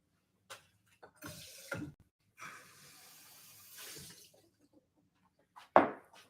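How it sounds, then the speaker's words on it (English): Water splashing as a glass is rinsed before pouring rum, a few short bursts of running water from a tap, then a brief clink near the end, close and fairly quiet with no talking. "Let me rinse it in real quick."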